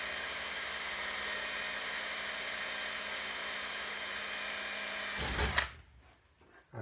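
A power drill bores a hole through the skin of an RV7 slider canopy skirt, whining loud and steady for about five seconds before spinning down abruptly into near silence.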